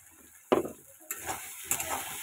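Spices for a fish curry stir-fried in a pan, heard as a few sharp scraping stirs and bursts of sizzle with quiet gaps between them, close and fairly soft.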